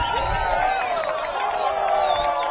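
A crowd at a disc golf tournament erupts after an ace, with sustained cheering and high whoops forming a steady roar that fills the scene without pause.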